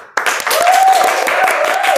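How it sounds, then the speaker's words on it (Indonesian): An audience of students claps at a campus media event, a sudden full burst of clapping that holds steady and close, with a voice speaking over it. "Boleh tepuk tangan?"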